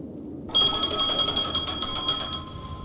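A telephone rings in the video game Honkai Star Rail, starting suddenly after a brief quiet with a bright, buzzing electronic trill that pulses steadily for about two seconds before cutting off.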